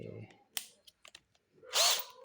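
A copy-brand cordless power drill is test-run after unboxing, giving a few short clicks and taps and then a brief high whirring spin close by, with a voice faintly present.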